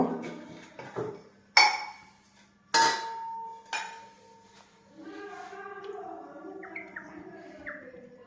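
A metal wok (kadai) set down on a kitchen stove, sharp metallic clanks and knocks at irregular intervals, followed by faint chirpy scraping and clinking.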